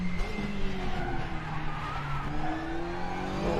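Tires lock and squeal under hard braking on a touring car without ABS at the Nurburgring in Raceroom, a steady loud screech over engine drone that sweeps in pitch.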